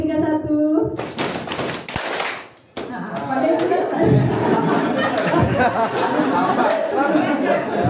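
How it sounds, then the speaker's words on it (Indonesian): A group of people clap their hands in short patterned bursts of three, three and one, with chatter and light laughter around the claps. "Tepuk 3, 3, 1."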